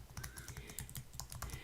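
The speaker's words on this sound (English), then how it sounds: "typing in the website that I use for the full readings and the link to payments there" Fingers tap rapidly on a computer keyboard, a dense run of close, quiet clicks with no voices over it.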